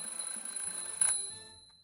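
A smoke detector alarm in the point-and-click game The Journey Down rings as a steady high electronic tone for about a second, ending in a short louder burst before fading, with no talk.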